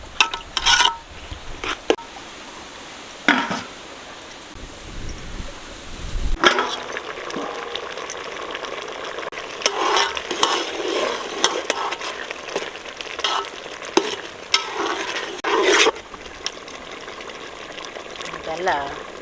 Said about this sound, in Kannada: ಬೆಲ್ಲದ ನೀರು ಬತ್ತ ತನಕ ಮತ್ತೆ ಬೇಯಿಸ್ಕೋಬೇಕು